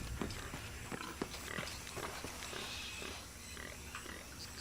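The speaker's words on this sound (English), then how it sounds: "So much for stealth killing the pig" A pig squeals and grunts in Shadow of the Tomb Raider as it is killed, short sharp cries scattered over a steady outdoor ambience, with no talk.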